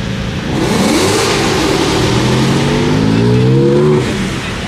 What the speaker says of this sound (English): Got the GT4 RS leaving.